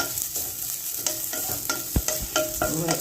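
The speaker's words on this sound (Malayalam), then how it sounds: "തേങ്ങ ചുരുട്ടി കണ്ടൊന്ന് ചെറുങ്ങനെ വറുത്തെടുക്കുക" Grated coconut is stirred and roasted in a pan, making a steady close sizzle broken by repeated scraping strokes of the spoon, with no talk.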